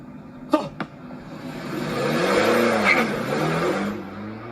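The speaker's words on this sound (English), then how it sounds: "Just for a casual, quick car chase scene." Car engines rev and surge through a quick car chase scene in a TV drama, with two sharp transient hits near the start followed by a swelling, building engine roar that peaks midway and fades.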